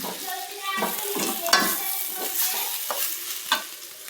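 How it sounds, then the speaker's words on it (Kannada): Cooked rice being stirred into raw mango chitranna in a hot pan, with repeated scraping and clattering strokes of the spoon over a faint sizzle, close and fairly loud, no voices. "ಇವಾಗ ಅನ್ನ ಹಾಕ್ತಾಯಿದ್ದೀನಿ. ಅನ್ನ ಹಾಕಿ ಮಿಕ್ಸ್ ಮಾಡೋದು."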